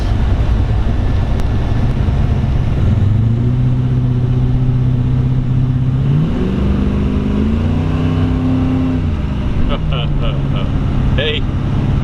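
A 1970 Chevrolet Camaro Z28 Pro-Tour resto-mod drives along with a steady, close engine drone. The pitch climbs and shifts as it moves through the gears, and brief clicks come near the end.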